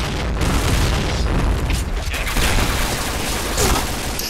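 A grenade goes off in a video game as a dense, loud burst of explosive noise. Rumbling blasts and crackling debris fill the whole short stretch.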